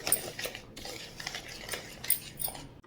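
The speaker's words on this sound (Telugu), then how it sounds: "మొత్తం ఉండలు లేకుండా రవ్వను బాగా కలుపుకోవాలి మనం." Semolina mixed with milk and jaggery in a bowl or pan, with faint, irregular scraping and clinking of a spoon as it is stirred, quiet and close.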